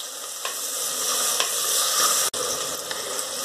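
Onions fry in oil in a clay pot for fish curry, giving a steady close sizzle with light scraping stirs and a brief clunk partway through.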